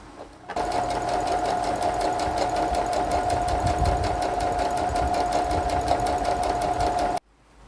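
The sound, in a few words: sewing machine stay stitching a fabric edge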